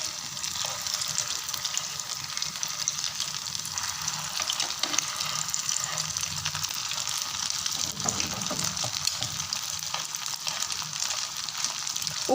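Bread samosas fry in hot oil, giving a steady, loud, close sizzle with a constant hiss and small bubbling crackles throughout.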